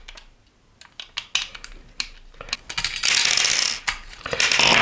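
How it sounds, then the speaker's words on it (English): Screws are backed out of a double-guarded fan cover with a tool, giving sharp irregular clicks and ratcheting ticks up close, then a louder sustained rasping whirr toward the end, with no speech. "because this is double guarded, you just need to remove these screws"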